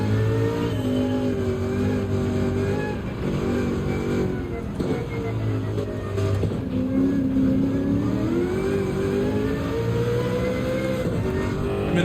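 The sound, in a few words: Sauber race car engine at Le Mans in video game Gran Turismo 7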